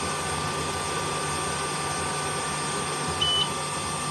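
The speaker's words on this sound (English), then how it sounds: "that beep means it's done" A single short electronic beep from an xTool F1 laser engraver finishing a job on bamboo pens sounds once over a steady whirring hum of machinery and fans.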